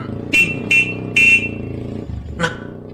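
Three short, bright honks from a motorcycle horn in quick succession, then a fourth after a pause, over a low rumbling engine.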